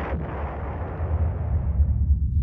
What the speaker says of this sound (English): It started off as a rather moderate explosion.